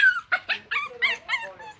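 Tied-up puppy whining and yelping in a run of short, high-pitched cries, close and fairly loud, with no talk over it.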